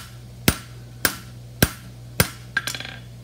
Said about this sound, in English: I'm knife blading with the edge of my hammer